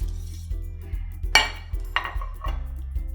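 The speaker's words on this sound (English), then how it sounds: "So I'm going to go ahead and add the noodles in boiling water." Noodles go into a pan of boiling water in a home kitchen while making cheesy Chinese bhel, giving a few sharp metallic clinks and a soft splash over a steady low hum.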